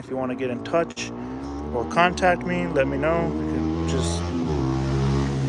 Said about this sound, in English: So sorry, I apologize for the traffic.